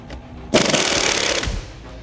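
A Hammerhead angle impact wrench rattles loudly for about a second as it backs out an alternator bolt in a tight engine bay, a dense burst of hammering that starts abruptly and then cuts off.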